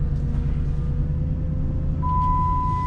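A car engine idles close by with a steady low rumble, about to be put in gear and driven off, and a thin steady tone joins partway through.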